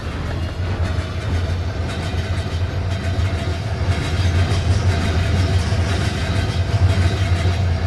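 Video-game train cars roll along rails with a steady engine-like drone and faint rhythmic clatter. The sound holds at a constant loud level and swells slightly partway through, with no speech.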